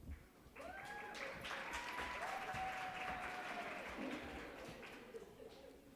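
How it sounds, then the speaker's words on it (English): Audience at a nursing pinning ceremony gives a round of applause, a steady crowd clapping heard somewhat distant and soft, with a few whistles or cheers riding on top before it tapers off. "Let's give them another round of applause."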